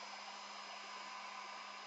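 Hair dryer blowing steadily while drying a gelli plate monoprint, a constant, close, even whoosh with a low hum and no pauses or talk.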